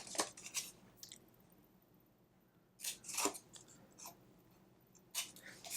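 Scissors snip through the corner of a notepad's hardcover in a few short, close bursts of crisp cutting, separated by quiet pauses, with no talking.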